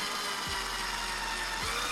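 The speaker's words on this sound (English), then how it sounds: "Now that we've got all the lines marked on the template, it is time to drill." A power drill bores holes into a wall to mount a bracket for a 100-inch 4K laser TV, its steady close whine running throughout with two brief dips in pitch.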